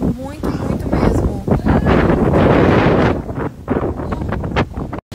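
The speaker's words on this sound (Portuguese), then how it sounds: "Você tem noção do vento que tá? Nossa, tá ventando muito." Strong outdoor wind buffets the microphone in loud, rumbling gusts while someone talks over it.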